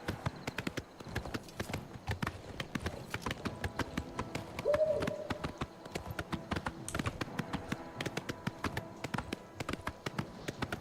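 Horse hooves clip-clopping in a steady, brisk rhythm that runs throughout, with a brief tonal cry partway through, in the video game Oblivion.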